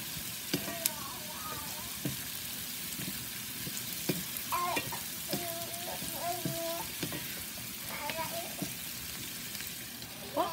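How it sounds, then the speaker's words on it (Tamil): Green chillies, garlic and capsicum sautéing in hot oil, with a steady sizzle and occasional stirring scrapes throughout, a voice speaking intermittently over it. "கேப்சிகம் எல்லாத்தையும் போட்டு கொஞ்சம் நம்ம வதக்கிக்கிடுவோம்"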